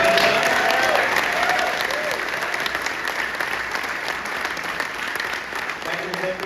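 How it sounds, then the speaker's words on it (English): Crowd applause for New York Governor Kathy Hochul at a hospital funding announcement, a steady wash of clapping that stays even and moderately loud throughout, slightly distant, without speech over it. "Give her a round of applause, folks."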